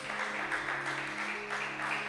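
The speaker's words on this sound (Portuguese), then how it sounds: "Quem pode aplaudir ao Senhor por isso?" A church congregation applauds together, a steady wash of clapping that holds at an even level throughout, with no voices rising above it.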